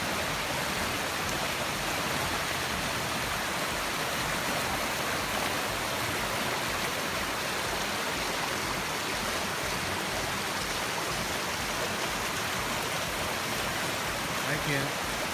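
A waterfall spilling over big flat rocks produces a constant, even hiss of rushing water that holds steady and moderately loud for the whole stretch, with no other sounds standing out.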